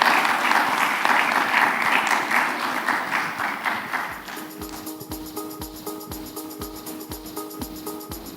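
An audience at a data science showcase applauds a presenter, full and steady clapping for about four seconds, then thinning into scattered individual claps while a tonal ringing sound rises underneath.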